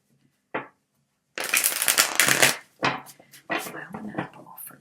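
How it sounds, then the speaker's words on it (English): A deck of tarot cards is shuffled in close, crisp riffling bursts, with a short flick first and then several rustling shuffles separated by short pauses. "the way I do my readings is I shuffle till one card falls out"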